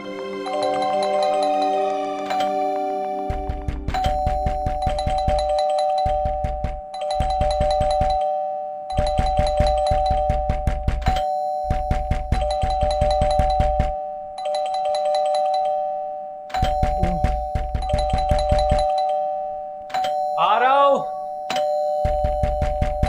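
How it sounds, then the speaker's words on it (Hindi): An electronic doorbell chimes repeatedly in quick bursts, loud and close, with someone talking over the ringing and a sustained tone between presses. "घंटी भी दे रहा है, खटखटा भी रहा है"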